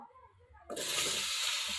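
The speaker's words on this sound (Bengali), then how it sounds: "আলুগুলো ভেজে নেব।" Potatoes go into hot oil left over from frying fish in a kadai: after a brief quiet stretch a sudden loud hiss erupts and holds as a steady, close sizzle.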